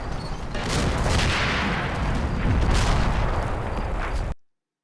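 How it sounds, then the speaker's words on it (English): 76mm shells and 81mm mortar rounds in the Combat Mission wargame, a dense, continuous roar of blasts and booming impacts that swells and rumbles for several seconds and then cuts off abruptly. "All this to the constant accompaniment of 76mm shells and 81mm mortar shells flying across the air"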